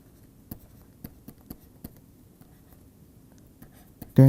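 Chalk or marker strokes on a lecture board, a series of soft taps and short scratches spaced about half a second apart, faint against a quiet room, ending in a louder bump.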